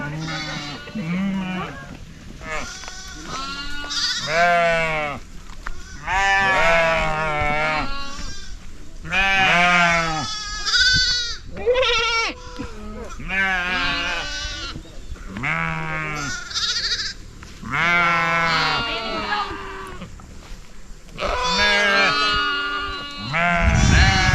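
Goats bleat repeatedly in wavering, nasal cries close by on a ranch, one goat hoarse, several calls overlapping with short gaps, loud throughout the clip.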